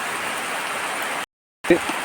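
Steady rain hisses continuously, briefly cut off, then resumes with a faint thump.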